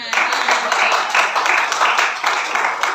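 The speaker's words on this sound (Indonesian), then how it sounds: "ya boleh tepuk tangan." Congregation clapping together in a church service, steady dense applause from many hands throughout, fairly loud and close with a slight roomy feel.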